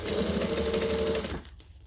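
Sewing machine running steadily as it stitches homemade fabric piping with the foot pressed against the cord, a close whirring drone that stops abruptly near the end.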